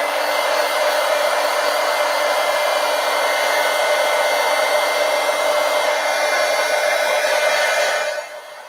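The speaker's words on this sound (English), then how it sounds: "let's hit this with the heat gun" A heat gun blows steadily and loudly on a watercolor coloring page, a continuous hissing, whooshing airflow that holds even for about eight seconds before cutting off at the end.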